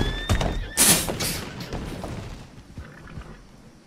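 A horse in the Red Dead Redemption video game gives a loud, close whinny, followed by thumping and a fading rumble with faint background noise.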